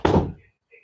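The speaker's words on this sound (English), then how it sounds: "Fully close this door so you don't hear me on this phone call." A door pushed shut indoors lands with one close, solid thud that fades over half a second, followed by a faint brief rattle of the latch.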